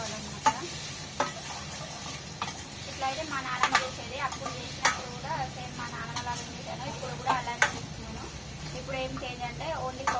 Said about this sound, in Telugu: ఉల్లిపాయ ముక్కలను అయితే మళ్ళీ లైట్గా ఫ్రై చేసుకుంటాను